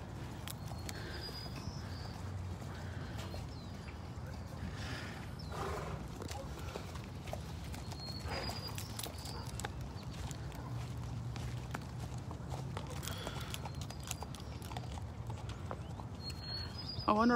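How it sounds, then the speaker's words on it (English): Horse hooves clip-clop steadily at a ranch in Long Beach, California, a walking rhythm over outdoor ambience, with people talking nearby. "Look at how big that horse is."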